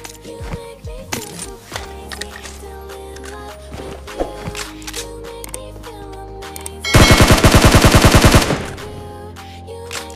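Automatic gunfire in PUBG Mobile near the squad house in Pochinki, a loud rapid burst of shots toward the end over busy in-game sounds and music.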